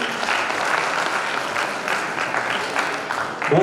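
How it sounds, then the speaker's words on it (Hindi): A crowd at a large organised stage show in Chhindwara claps for the organising team, with steady, loud applause filling the whole stretch. "तो एक ताली हो जाए सबके लिए"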